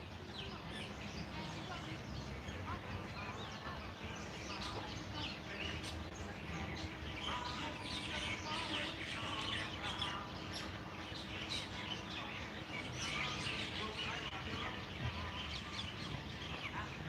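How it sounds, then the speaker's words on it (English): Many birds chirp and twitter continuously in Kapiolani Park, Waikiki, a dense busy chorus of short calls mixed with outdoor park ambience and faint distant voices. "Listen to these birds."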